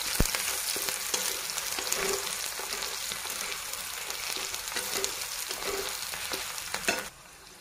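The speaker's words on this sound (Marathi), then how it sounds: "कांदा छान लाल कलर येऊन तळून घ्यायचा छान" Finely chopped onion fries in oil with whole spices in a pan for palak paneer, a close and steady sizzle with soft stirring scrapes that stops abruptly near the end.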